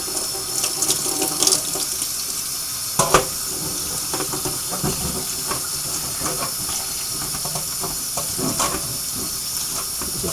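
Cold water runs from a kitchen tap to rinse homemade butter, a steady close splashing hiss into the sink with a few louder bursts of spatter, no talking.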